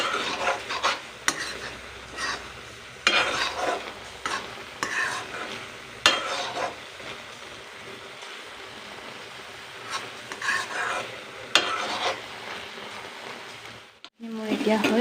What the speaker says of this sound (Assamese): ইয়াতে মই অকণমান ঘি দিলোঁ ঘি দি 1 মিনিটমান লৰাই থাকিব